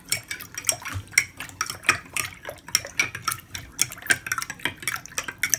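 Lemonade is stirred in a video game with quick, rhythmic clinks and taps like a spoon against a glass, repeating steadily throughout at close range.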